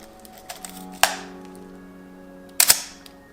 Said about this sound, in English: the shutter opens